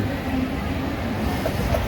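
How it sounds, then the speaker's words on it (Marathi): Low, steady rumble of the Mahalaxmi Express moving on its rails after leaving Dadar, continuous and fairly loud, heard from inside. "दादरवरून ट्रेन सुटलेली आहे"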